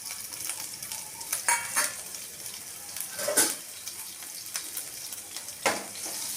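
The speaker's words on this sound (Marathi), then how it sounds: "तेलामध्ये थोडंसं अद्रक आणि लसूणचं बारीक केलेलं टाकायचं." Finely chopped ginger, garlic and chili sizzling in hot oil for Schezwan noodles, a steady close crackle with occasional stirring scrapes of a spatula against the pan.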